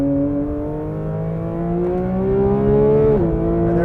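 Porsche 911 GT3 (2022) engine on track at Road Atlanta with the PDK gearbox, a loud, close engine note climbing steadily in pitch before a quick drop as a gear change comes through.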